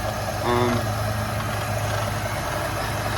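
A 1998 Pontiac Firebird V6 engine idling, a steady low hum with a slight swell near the start, close and continuous, with no talking.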